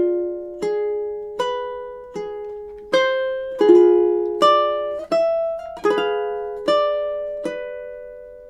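Ukulele plays a passage of Ave Maria as a slow melody over plucked chords, each note ringing clearly and decaying before the next, close and alone with no voices.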